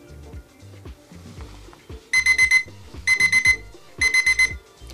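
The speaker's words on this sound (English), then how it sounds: "Every 30 seconds, this timer will go." A darkroom timer sounds its alarm in three bursts of rapid electronic beeps, each a quick series of pulses, loud and close, over faint background clatter from film developing.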